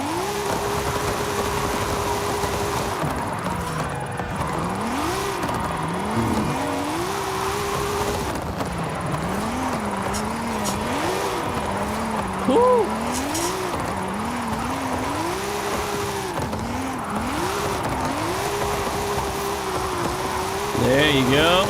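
Car drifting in second gear in Forza Horizon 5, the engine note rising and falling in repeated swoops under a steady tire-and-engine roar, loud and continuous throughout, with someone talking over it.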